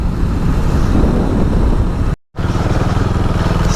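Motorcycle engine droning steadily during a morning ride to a house-warming, with strong wind rush over the microphone, a brief dropout midway, then the engine resuming.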